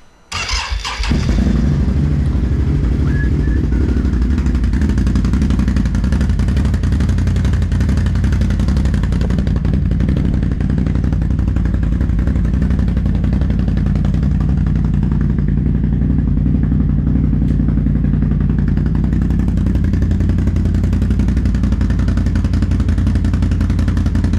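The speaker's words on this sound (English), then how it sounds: "Let's get this bike fired up." A Can-Am Outlander 850 XMR all-terrain vehicle engine cranks and fires, then settles into a loud, steady idle with a deep rumble and mechanical clatter running unbroken close by.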